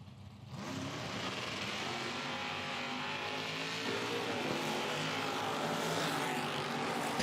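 A Camaro and a Corvette launching off the line in a drag race, engines roaring loud and steady after a quieter instant, the rumble building with rising pitch as the cars pull away.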